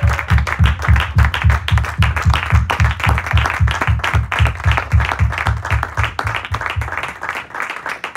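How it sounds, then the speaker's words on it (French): Church congregation claps together for Jesus in a steady, rhythmic beat, loud and continuous for several seconds before thinning out at the end. "Acclamons pour Jésus"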